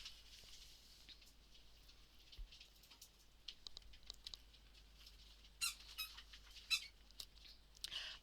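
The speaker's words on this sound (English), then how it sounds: "found his squeaky toy" A dog squeezing a squeaky toy indoors, producing faint, scattered short squeaks that cluster in a few quick bursts against a quiet background.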